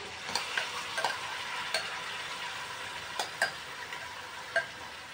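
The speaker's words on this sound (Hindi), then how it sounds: "अब ये सारा मैरिनेटेड चिकन हम एक के बाद एक कढ़ाई में डालेंगे" Marinated chicken pieces fry in a kadhai for Hyderabadi chicken dum biryani, giving a steady, fairly quiet sizzle with occasional light taps and clinks of a utensil, heard alone without voices.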